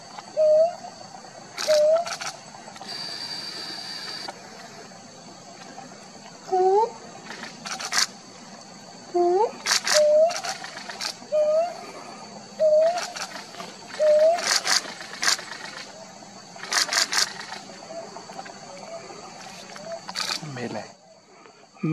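Owl giving a series of short rising hoots, repeated at a steady pace over a persistent high insect-like buzz, with sharp clicks between calls and a fuller hoot near the end.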